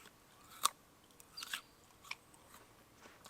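A hard apple is bitten and chewed up close: a sharp crisp crunch, then a few quieter crackling chews over near silence.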